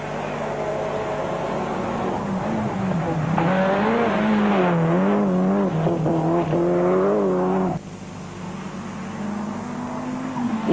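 Nissan Sunny GTI-R rally car driven hard by Stig Blomqvist on a rally stage, its engine note rising and falling steadily through gear changes, loud and close throughout with no voices.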